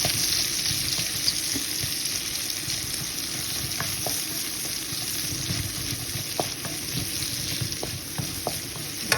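Mixed sauces frying with rice in a hot pan, a constant loud sizzle with scattered clicks and light stirring taps throughout.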